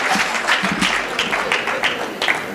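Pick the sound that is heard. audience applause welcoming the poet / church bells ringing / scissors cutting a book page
audience applause welcoming the poet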